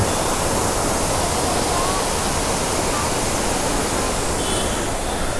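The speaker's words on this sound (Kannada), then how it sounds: "ನೋಡಿ ಇದುವೇ ಅಬ್ಬಿ ವಾಟರ್ ಫಾಲ್ಸ್" Abbi Kolli Falls in monsoon season pours in a loud, unbroken roar of rushing, cascading water, dense and steady throughout with no break or talking.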